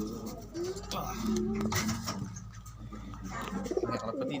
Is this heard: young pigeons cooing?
yes